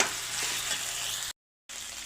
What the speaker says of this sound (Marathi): मटण आपण या मसाल्यामध्ये चांगलं परतून घेऊ